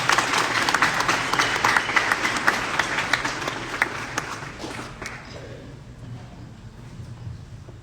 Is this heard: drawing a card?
no